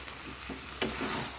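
Chicken curry with potatoes and coriander leaves being sautéed in a pan, a soft close sizzle with a couple of brief stirring scrapes, one sharper clack near the middle, no talking.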